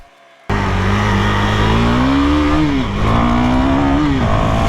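A KTM Duke 390 motorcycle pulls away after a quiet moment. Its single-cylinder engine roars loud and close as it climbs through a gear, dips with a shift, and then keeps accelerating.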